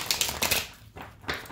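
Tarot cards shuffled by hand, giving a few quick riffling, papery bursts with short pauses between them, close and fairly soft, with no speech.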